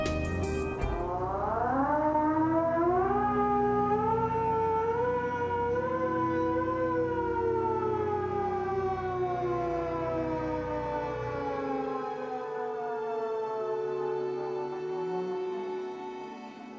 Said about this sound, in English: the Russian EAS that just straight up flashes up and says warning